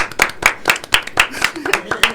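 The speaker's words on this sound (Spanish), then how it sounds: "le vamos a dar un aplauso junto a Laura" Audience applause in a studio program, individual sharp claps ringing out in a loose, fairly even rhythm of about four per second, with voices talking underneath.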